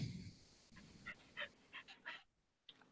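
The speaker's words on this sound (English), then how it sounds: "I got to take my dog out." A dog gives a few faint, short whimpers and yips in quick succession, heard close by but quietly, with no speech over them.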